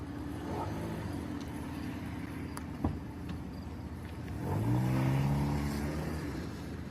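A Mercury Milan car drives past, its engine a steady low hum that swells as it revs or accelerates midway, somewhat distant and heard alone with no talking.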